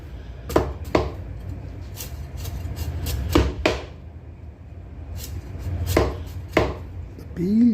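Kappa (tapioca) being chopped on a board for fish curry, several sharp knife strikes landing in irregular pairs and singles, close and clear over a low background hum.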